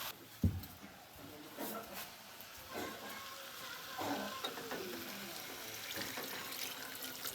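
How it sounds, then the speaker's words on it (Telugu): Water poured into a pot of cooking mutton curry, a soft splashing wash with stirring and faint sizzle at close range, one sharp knock near the start. "ఇంట్లో కొన్ని నీళ్ళు పోయాయి"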